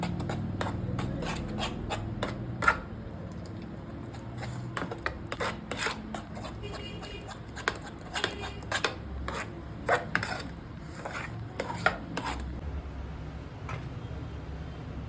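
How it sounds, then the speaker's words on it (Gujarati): A spoon mixes dahi vada ingredients in a bowl, giving a scattered series of sharp clinks and taps against the dish over a soft rubbing, scraping background, with no talk. "હવે એને આપણે મિક્સ કરી નાખીએ."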